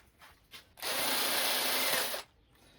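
A cordless drill whirs steadily for about a second and a half, close up, drilling a speaker mounting hole in a Land Rover Discovery 2, then stops, with faint clicks before it starts.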